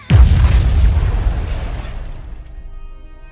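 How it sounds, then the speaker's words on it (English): A single bomb detonation: a sharp, loud blast that erupts at once, then rumbles and decays into a fading tail over a few seconds, alone with no voices. "the bomb is detonated."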